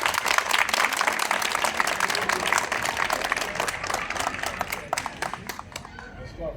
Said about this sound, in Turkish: eğer kuvvetli bir alkış gönderirsek Ayla Hanım'a